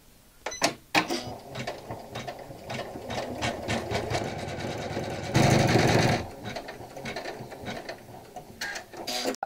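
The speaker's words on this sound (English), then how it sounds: "now we're going to do the final one, and then it's going to add some sprinkles." A Janome Memory Craft 500E embroidery machine stitches a felt cupcake, giving a rapid mechanical whirring and clattering with irregular ticks and a louder, denser burst of stitching midway, heard up close.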